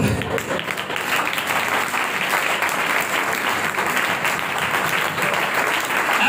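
An audience at a church sermon breaks into applause, a dense continuous wash of clapping that stays steady and fairly loud throughout.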